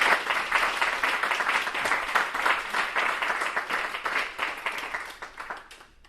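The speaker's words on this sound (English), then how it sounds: "you'll just have to applaud twice as hard for Eddie" An audience applauding at a spring literary reading event, a dense, steady round of clapping from a room full of people that fades toward the end.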